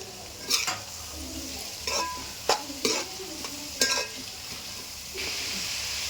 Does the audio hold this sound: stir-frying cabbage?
yes